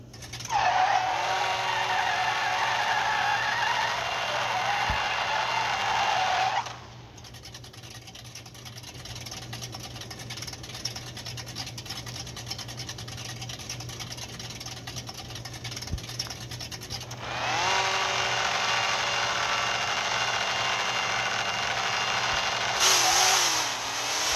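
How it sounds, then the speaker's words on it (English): Engine and tire noise from a drag car spinning its wheels in the No Limit Drag Racing 2.0 mobile game: a loud sustained engine whine, a quieter stretch in the middle, then the roar returns. "I'm gonna try riding out the wheel spin and see what happens"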